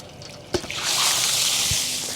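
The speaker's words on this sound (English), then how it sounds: "Get a lot of water blowing out of this thing here in a second" A thump, then water bursts from a windmill pipe and rushes out in a loud, sustained spray with sloshing and splashing close by.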